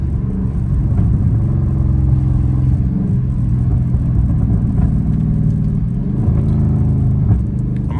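A loud Dodge Charger Scat Pack, heard from inside on a rainy drive, downshifts with a steady deep exhaust rumble and engine drone, a few small crackles showing through.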